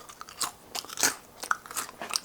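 Crisp, close crunching of homemade nacho chips being bitten and chewed, a rapid series of sharp brittle snaps with no talking.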